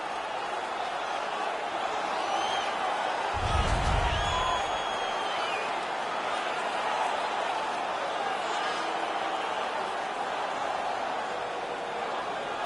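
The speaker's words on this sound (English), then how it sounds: "The crowd is all over them right now." Steady arena crowd roar from an NHL 19 hockey game, a constant broad wash of cheering and murmur held throughout at an even level, with a brief low thump near the middle.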